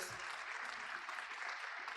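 Audience applause at a conference on ecological and inclusive digital technology, a continuous wash of many hands clapping, moderately distant and even in level, with no voice over it.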